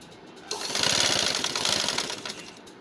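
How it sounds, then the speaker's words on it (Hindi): A sewing machine runs a quick burst of stitching on a small boy's kurta, its rapid needle chatter starting abruptly, holding steady for about two seconds, then stopping close by. "अब ये इसके बाद ये मैं इसकी सिलाई लगा रही हूँ"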